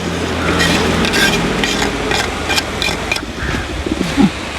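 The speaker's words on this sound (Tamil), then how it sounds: "இப்போ நல்லா கிளறி விடணும்" A coconut and date mixture is stirred in a pan, giving a steady scraping, sizzling texture with soft rhythmic strokes, close and fairly loud throughout, with no talk.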